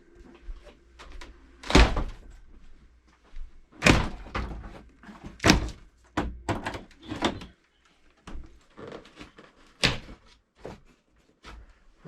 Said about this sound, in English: This is why they call it a split jamb door, because you split the jamb.